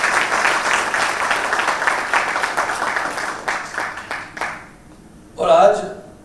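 An audience at a Teachers Day celebration applauds with dense, steady clapping that thins out and fades over a few seconds, followed by a short burst of speech.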